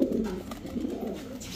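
Pigeons from a club breeder's stock coo in a steady, close, continuous low murmur that carries through the whole short stretch.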